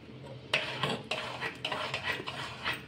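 A spoon scraping and clinking against a pot while milk is stirred for homemade ice cream, irregular close metallic strokes at a quiet level, no talk.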